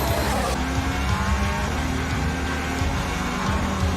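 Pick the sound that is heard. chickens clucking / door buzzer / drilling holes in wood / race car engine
race car engine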